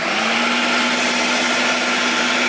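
Food processor whirring at high speed as it blends quick oats, a loud steady motor drone with a constant hum and grinding rush, heard alone and unbroken throughout.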